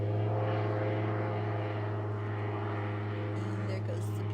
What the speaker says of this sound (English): And there goes the plane back up.